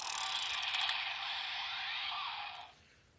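Power Rangers Ninja Storm Wind Morpher toy giving its electronic confirmation sound, a bright buzzing tone with a whirring sweep held for about two and a half seconds before cutting off, close and fairly quiet.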